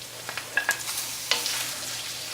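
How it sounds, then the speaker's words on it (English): Shrimp sizzle in a hot pan while being stirred with wooden spoons, with a steady frying hiss broken by a few sharp scraping clicks and taps close by, no talking. "stir them around with your wooden spoons"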